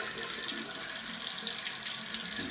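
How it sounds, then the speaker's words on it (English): Cold water runs from a bathtub faucet into the tub, a steady, loud, close splashing rush that holds even throughout with no talking. "you can see that I've got the water running in the tub. It's cold water right now."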